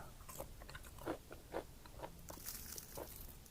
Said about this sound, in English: See the crunch? And it's so light.